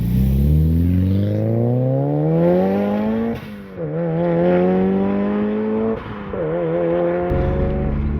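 A Mitsubishi Evo engine pulls hard while driving, its loud rising harmonic drone climbing through the revs with two brief dips at gear changes before picking up again, close and steady throughout.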